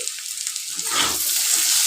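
Steady hiss and crackle of pumpkin and potato frying in a pan, close and continuous, swelling slightly midway with no voices.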